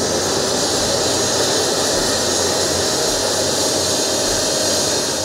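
Kenya Air Force One, a presidential jet, roars in flight with a steady loud engine rush that holds unchanged throughout, no voices.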